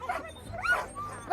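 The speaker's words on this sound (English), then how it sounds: "They're going to be barking a lot" Sled dogs in Whitehorse yip and bark in short, excited bursts while being hooked up to the sled, several voices overlapping at close to moderate distance with a person talking among them.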